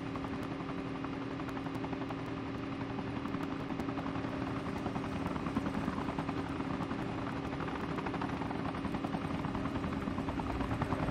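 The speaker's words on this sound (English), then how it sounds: "I got choppers on me." Helicopters in the mobile shooter Call of Duty Mobile hover close overhead, their rotors producing a steady, loud chopping buzz that lasts the whole stretch, with faint scattered gunfire-like clicks.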